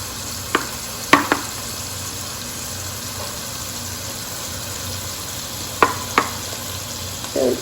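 Spicy lemon garlic turkey meatballs sizzle steadily in a hot pan, a low continuous fry punctuated by a few sharp clinks and knocks of utensils against the pan.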